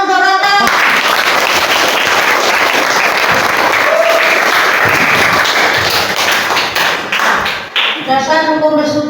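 Sustained applause fills a classroom during a fiqh lesson, dense and steady for about eight seconds, with a voice speaking briefly at the start and again as the clapping stops.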